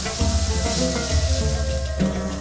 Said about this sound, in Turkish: önce ince kıydığımız soğanları atıyoruz. Bir 5 dakika kadar kavuruyoruz